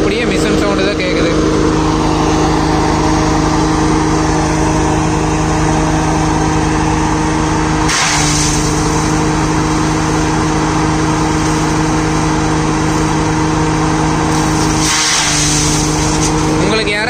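A farm waste shredder-pulverizer driven by the PTO of a Solis Yanmar 5515 E series 55 HP tractor drones loudly and steadily at close range, a constant mechanical hum with brief surges as material is fed through.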